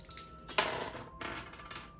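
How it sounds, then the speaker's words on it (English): Two dice roll across a tabletop during a board game, giving quiet clattering bursts: one sharp tumble and then a second rattle shortly after, with faint knocks in between and no voices. "We'll roll 2 dice."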